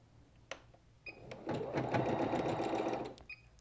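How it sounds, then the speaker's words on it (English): An embroidery machine sewing a tacking stitch: a few isolated clicks and taps at the start, then a steady, fast whirring run of stitches for about two seconds before it stops, close and clear. "As I start to stitch this tacking stitch, I'm going to hold onto my tail, let it start sewing a few stitches"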